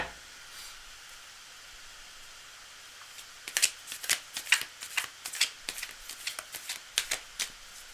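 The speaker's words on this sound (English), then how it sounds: "No, I'm going to shuffle some more." Quiet room, then a rapid series of crisp riffling snaps as a deck of cards is shuffled repeatedly, close by.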